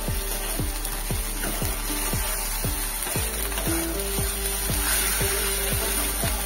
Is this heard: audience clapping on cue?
no